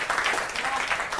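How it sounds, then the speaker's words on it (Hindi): Audience applause at a Hindi poetry recital by a poet welcoming the new year, a dense continuous patter of clapping that holds steady for a moment at moderate loudness. "जोरदार तालियां।"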